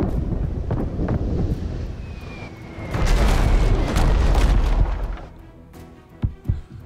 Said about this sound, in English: Mortar shells are incoming.